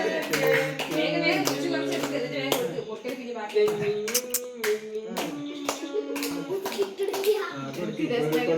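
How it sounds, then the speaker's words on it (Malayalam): Family members clap in rhythm at a child's birthday cake cutting, close and lively, over sung voices and a child's chatter. "കയ്യടി കയ്യടി"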